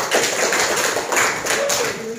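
A few hands clapping in loose bursts at close range, uneven and brief, with a bit of room echo.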